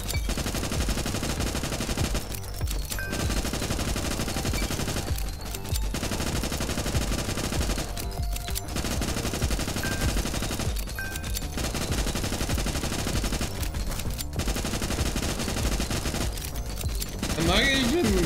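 Rapid gunfire in the video game Nimrod Guncraft Survivor: dense, continuous machine-gun bursts firing nonstop, briefly broken by short pauses every few seconds, loud and steady throughout.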